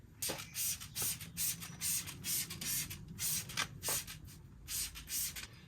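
Citrus pre-wash diluted 30:1 is sprayed onto a hot rod car from a trigger sprayer, with about a dozen short, even hissing bursts repeating steadily and close by, and no talking.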